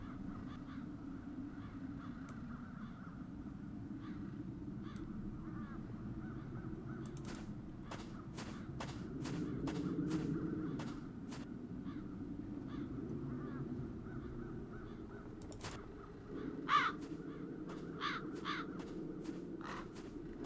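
Crows caw in the video game Chains of Satinav, a run of sharp repeated calls breaking out over a steady low ambient drone, clustered in the middle and again near the end.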